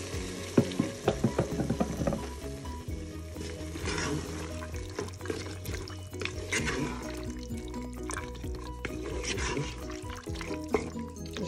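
Milk being stirred into a penne pasta mixture with chicken fajita ingredients inside a Cookeo multicooker, heard as liquid swishing and spoon clinks, louder clatter early on, with background music throughout.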